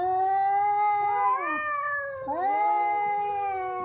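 Two cats, a neighbour's and a household cat, fighting with drawn-out, rising and falling yowls and caterwauls, loud and close, with no talking.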